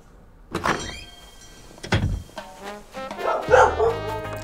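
A puppy in Animal Crossing: New Horizons gives a few short, sharp yips and barks, spaced apart, mixed with light game sounds.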